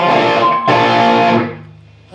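Distorted electric guitar plays the closing phrase of a solo, a loud sustained run that rings out, breaks briefly, then fades away to a quiet tail.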